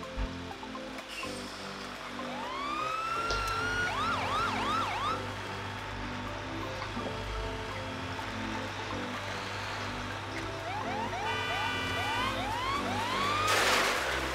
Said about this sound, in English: can you hear my sirens?